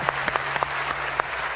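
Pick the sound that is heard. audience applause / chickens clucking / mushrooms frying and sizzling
audience applause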